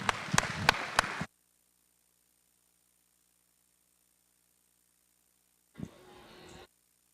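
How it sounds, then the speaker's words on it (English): Applause from spectators at a junior livestock cattle show: a brief burst of claps, then silence, followed by a short, fainter patch of clapping and crowd noise near the end. "let's give everybody a nice round of applause"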